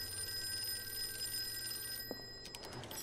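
A telephone rings in the Call of Cthulhu video game, a steady electric bell tone that runs quietly for a few seconds and then cuts off, with no voices.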